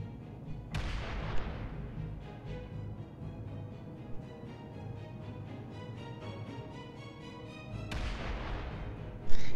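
In Space Engineers, a large warhead explodes with a sudden heavy boom, followed by a long rumbling roar of debris, and a second sharp blast cracks near the end.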